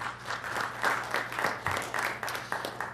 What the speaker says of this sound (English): Don't be afraid to applause for that.